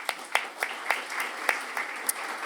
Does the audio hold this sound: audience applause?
yes